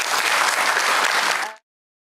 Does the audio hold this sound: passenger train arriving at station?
no